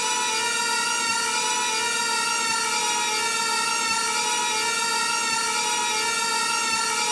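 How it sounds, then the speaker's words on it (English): A steady, high-pitched electronic whine of an FPV drone's motors in the Liftoff XR drone simulator game, played on a Meta Quest 3S headset, buzzing continuously and loudly with an even tone throughout, no voices. "so here's our drone."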